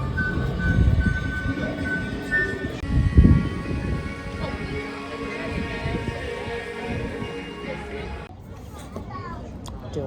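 A train ride at Disney Hollywood Studios rumbles and clatters steadily, with a loud thump partway through, while people and children talk over the rolling noise.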